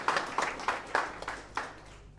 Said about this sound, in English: Let's clap for our colleague from CA.